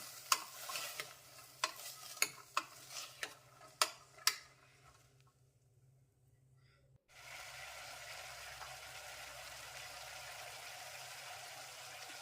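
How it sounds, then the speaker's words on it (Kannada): Vegetables with fresh green peas frying in oil for a vegetable kurma: sharp clicks from stirring come first, then a short lull, and then a steady, close hiss of frying that carries on to the end. "ಈಗ ಇದನ್ನು ಎಣ್ಣೆಯಲ್ಲಿ ಒಂದೆರಡರಿಂದ ಮೂರು ನಿಮಿಷ ಎಣ್ಣೆಯಲ್ಲಿ ಹುರ್ಕೋಬೇಕು"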